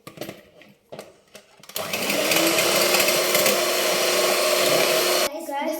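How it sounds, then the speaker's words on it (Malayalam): After a few brief knocks, an electric hand beater whips sugar for boost cake batter, a loud, even whirring motor running for about three and a half seconds before stopping. "പഞ്ചസാര ഇടണം. നമുക്ക് ബീറ്റ് ചെയ്യാം."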